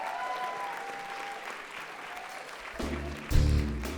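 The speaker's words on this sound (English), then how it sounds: "I think they deserve a round of applause." Scattered applause rises at an awards ceremony, at first faint under a lingering tone, then swelling into fuller clapping with a loud burst near the end.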